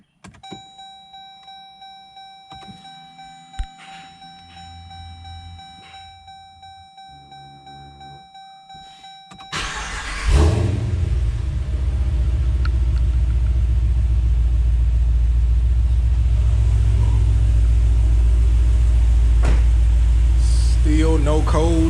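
A 5.7L engine fitted with a 6.4 intake manifold cranks briefly, then fires and settles into a loud, steady idle rumble, heard close with no talk.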